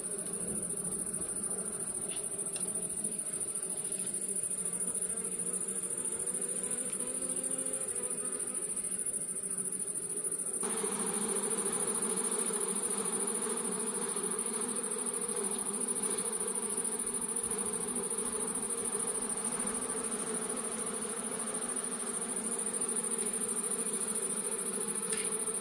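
Honeybees swarm around honey frames being pulled from the hive for extraction in summer, a dense, steady buzzing drone close by that swells partway through and continues without talk.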